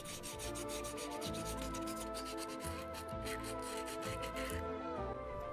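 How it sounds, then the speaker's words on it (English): Sandpaper is rubbed by hand over a wooden two-roller slingshot, giving a close, steady series of rasping back-and-forth strokes in an even rhythm. "use sandpaper to finally smooth the entire surface"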